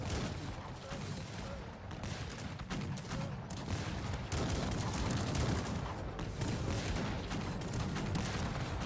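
Gunfire in a Cossacks 3 video game battle, dense rattling volleys of musket fire and crackling shots forming a continuous, fairly faint din with scattered sharper reports.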